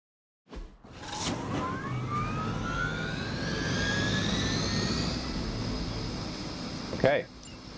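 Helicopter engine from the Marvel's Midnight Suns video game, a steady loud roar with rising whine tones that holds for several seconds, joined by a sharp burst near the end.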